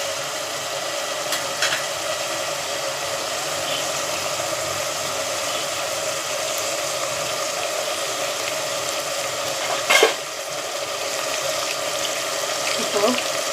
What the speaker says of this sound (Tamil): பெரட்டி விட்டு நல்லா இது வதங்கி வரட்டும்.